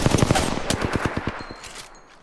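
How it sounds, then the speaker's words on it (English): A rapid burst of laser gunfire in Apex Legends crackles close and loud at first, then thins into scattered shots that trail away as the firing stops. "Oh no, there is one close. Laser shooting at me."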